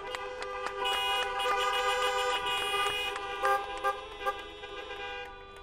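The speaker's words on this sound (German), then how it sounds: "da müssen wir jetzt sonst extra hupen" A car horn sounds in a sustained, steady honk with several short bursts and taps near the end, moderately loud and fairly close.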